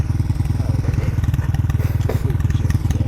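A full-size dirt bike in eco mode pulls away, its engine a steady, close, throbbing drone with rhythmic pulsing and a few clattering knocks throughout.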